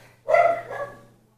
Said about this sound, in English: please excuse my dog barking